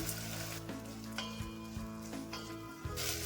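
Tomatoes fry in a pan for mango rasam. The sizzle is steady and close, with a few clinks and a stir partway through, and no talking.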